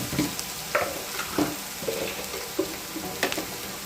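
Chilli powder and coriander powder roasting in oil in a pan for egg bhurji, a soft continuous sizzle broken by repeated scraping stirs at a steady pace, close by.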